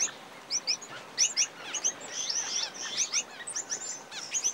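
Small Australian grass finches chirp and twitter at a waterhole in quick, overlapping bursts, a busy flock of high bright calls close by.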